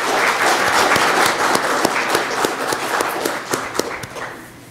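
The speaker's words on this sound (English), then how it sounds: "We want to clap for you" Applause from a seated crowd for the adults who work with the children. The clapping is steady and fairly loud, with sharp individual claps standing out, and it thins toward the end.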